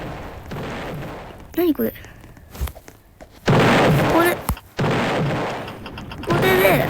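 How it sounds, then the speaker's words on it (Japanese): Cannons on a pirate ship in Roblox fire in loud, close booms, several blasts scattered through the stretch, with a voice speaking briefly between them. "待って、大砲出る"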